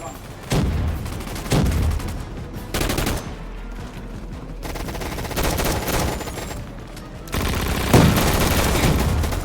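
Gunfire in a shooting video game: loud repeated bursts of automatic fire, fairly close, broken by short pauses, with a steady game background running throughout.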